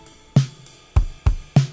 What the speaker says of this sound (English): I'm going to scoot this up to the ride, which is going to sound like this